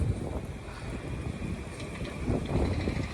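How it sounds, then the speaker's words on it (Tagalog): Strong wind roars and buffets against the microphone outdoors in Barcelona in December, a continuous loud rush with gusty swells and no talk. "Lakas ng hangin guys."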